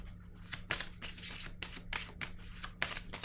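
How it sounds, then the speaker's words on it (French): Pink oracle cards are handled and drawn from a deck, producing repeated papery swishes and riffling bursts in a loose rhythm, close to the listener over a faint steady hum. "Je vais piger une carte rose."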